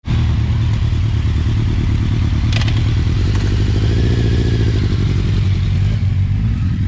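A powerful sport motorcycle rumbles loud and close with a steady, throbbing engine note that rises as it pulls away, with wind noise throughout and no talk.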